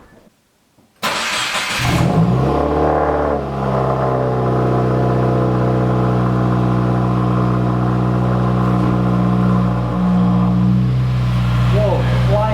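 2016 Subaru WRX with a muffler-delete exhaust cranks and fires up after a second of near silence, then settles into a loud, steady, throaty idle with a brief flare in the middle.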